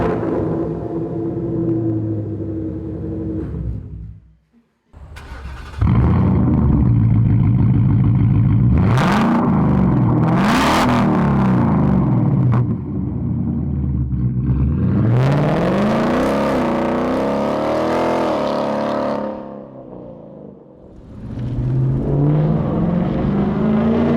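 A 2018 Mustang GT with a Flowmaster Scavenger exhaust and resonator delete revs loudly and close by in several hard bursts, the engine's roar rising and falling between short pauses, with no talking.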